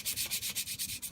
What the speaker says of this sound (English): so far I've just been sanding at it. Different grits